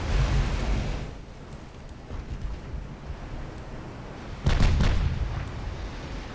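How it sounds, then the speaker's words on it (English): A volley of 14-inch naval guns fires in UA: Dreadnoughts, a naval warfare game: a low rumbling roar opens, then a loud, heavy booming blast lands near the end over a steady wind-and-sea wash. "we're going to get our first volley of 14-inch guns going here"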